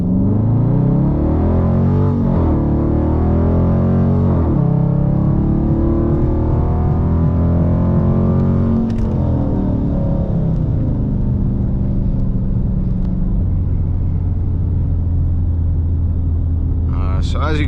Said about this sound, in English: So it's activated, so you're gonna press down the brake, hit the gas.